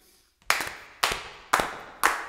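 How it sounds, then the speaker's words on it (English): Four sharp, evenly spaced hand claps demonstrating a basic rhythm at a clapping workshop, close and loud after a brief quiet start, each clap ringing out with a short decay. "we want to teach you this rhythm by clapping your hand"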